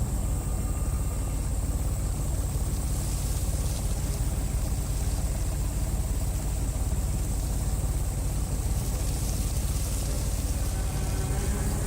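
A pumping engine in the video game Secret Files 3 runs steadily, a continuous mechanical drone with a constant low rumble throughout.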